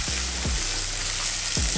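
Egg added to rice and vegetables frying in a pan, a dense, steady sizzle with a few soft stirring thumps close by.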